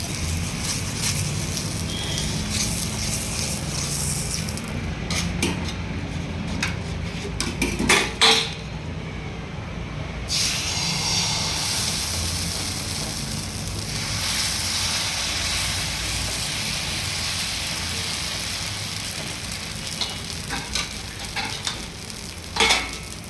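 Dosa batter spreading on a hot oiled dosa pan, a steady broad sizzle running throughout with occasional scraping and clinks of a utensil, close and continuous.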